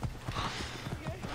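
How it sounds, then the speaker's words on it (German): A horse's hooves clip-clop at a steady trot in the video game Assassin's Creed Origins. The rhythmic thuds sit under a dense wash of game ambience. "Komm her, Pferdchen."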